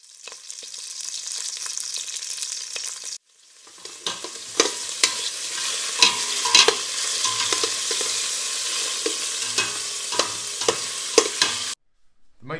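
Mixed meat browns in a pan for a ragu, sizzling and crackling steadily as it is stirred, with scraping and clatter at close range and no one speaking.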